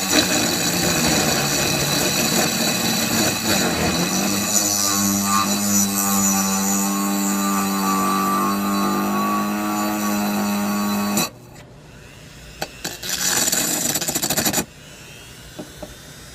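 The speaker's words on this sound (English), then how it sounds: "we were successful in drilling a hole into glass." A Dremel rotary tool running at a low setting bores a hole into glass, giving a steady, close whine with a droning hum for about eleven seconds before it cuts off, followed by quieter handling noises.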